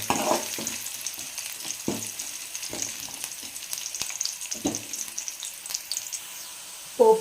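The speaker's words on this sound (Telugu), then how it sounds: "చేసేసుకొని వీటిని ఫ్రై చేసుకుందాము." Cashews and black pepper frying in oil for a pongal tempering, a soft continuous sizzle with intermittent stirring knocks and scrapes of a spoon in the pan.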